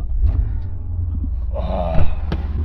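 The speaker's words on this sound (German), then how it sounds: "Das ist immer das Geilste bei einem AMG. Der erste Start." A Mercedes AMG ML with an LPG conversion starts up, a deep low idle rumble swelling into a brief rising rev, close and loud, with no talking.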